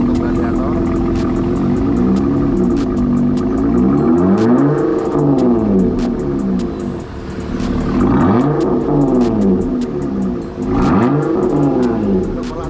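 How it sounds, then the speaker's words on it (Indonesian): A Jeep Gladiator with a side-exiting Borla ATAK exhaust revs up and down repeatedly, with a deep exhaust note, loud and close, rising and falling in several surges. "Nah, ini knalpot Borla Attack untuk Gladiator."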